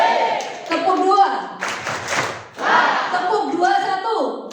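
Young people at a 2023 church youth worship service clap together in a practiced pattern, sharp group claps coming in short bursts between an instructor's spoken cues.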